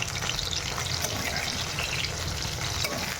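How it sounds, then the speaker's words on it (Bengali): Baby corn pieces deep frying in hot oil on a gas flame, a dense, steady bubbling sizzle heard up close and continuous throughout, without any voices. "গ্যাসের ফ্লেমটা ভাই রেখেই ভাজবেন তাহলে ভাজাটা ভালো হবে"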